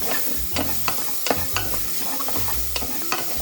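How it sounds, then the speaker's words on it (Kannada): Garam masala powder and whole spices frying and being stirred in a pan for chicken biryani, with steady sizzle under repeated scraping clinks of a spoon, close and alone without talk. "ಗರಂ ಮಸಾಲ ಅರ್ಧ ಚಮಚ ಪೌಡ್ರು ಎಲ್ಲ ಹಾಕಿ ಫ್ರೈ ಮಾಡ್ತಾಯಿದ್ದೇನೆ"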